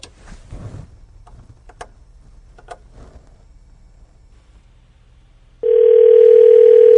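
Quiet faint clicks and rustling, then a steady telephone dial tone starts abruptly and holds loud to the end.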